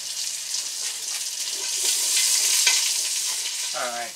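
Onions sauté in a pan for a soup, giving a bright continuous sizzle with a light stirring texture throughout and no talking.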